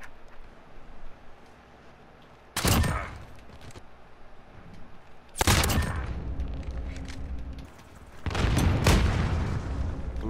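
Loud gunfire bursts from a shooter video game, three heavy volleys of rapid shots separated by quieter ambient stretches, with the last burst lasting several seconds.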